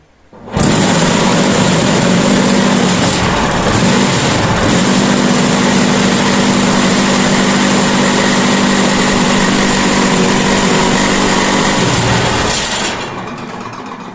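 A loud, steady mechanical hum of a vibrating machine compacting a sand-and-snow block, running continuously, with a dense buzzing drone that cuts off near the end.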